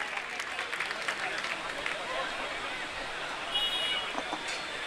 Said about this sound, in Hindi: एक बार जोरदार तालियां बजा करके उनका अभिनंदन करेंगे